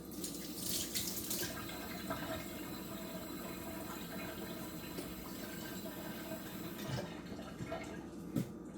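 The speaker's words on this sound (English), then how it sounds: "Doesn't have to be ice cold, but just kind of cold from the faucet." Cold water runs steadily from a kitchen faucet, filling a measuring cup for half a cup of water, a continuous broadband rush lasting several seconds with a few small knocks near the end.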